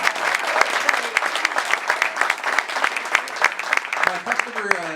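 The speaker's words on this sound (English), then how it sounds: "a big round of applause for all those distant travelers and the rest of you" Wedding guests' round of applause, a dense, lively burst of clapping from a room of people, with voices rising faintly through it toward the end.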